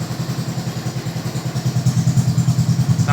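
A motorcycle fitted with an aftermarket exhaust and a hand-operated butterfly valve idles and revs, giving a loud, throbbing, evenly pulsing exhaust note close by that grows slightly stronger toward the end.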